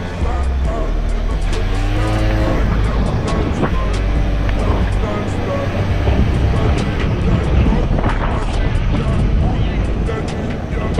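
Honda Dio scooter ridden at modest speed, its small engine buzzing steadily up close with rising and falling pitch and passing road noise, and someone talking over it at times.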